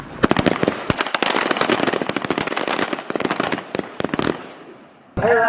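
U.S. Marines fire rifles and pistols in a live-fire drill at Camp Lejeune, North Carolina: loud, rapid, overlapping sharp shots crackle for several seconds and then stop, followed by a shouted command.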